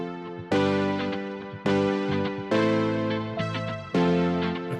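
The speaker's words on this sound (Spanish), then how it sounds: "Este es un sonido de sintetizador." Synthesizer playing a reference line, bright, harmonically rich notes struck in five distinct attacks, each sustaining and slowly fading, clear and isolated with no speech.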